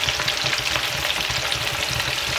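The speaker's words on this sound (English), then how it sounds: "Listen to that sizzle." Bissli-coated chicken schnitzel frying in hot oil, a dense steady crackling sizzle that stays loud and close with no talk over it.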